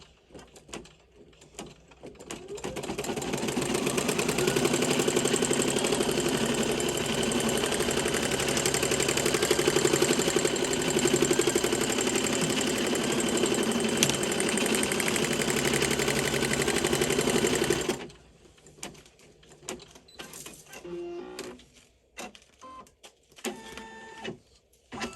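An embroidery machine runs a tack stitch sealing glitter inside a clear vinyl snow globe charm tag, a steady loud mechanical whirring hum lasting about fifteen seconds before it stops, then scattered light handling clicks.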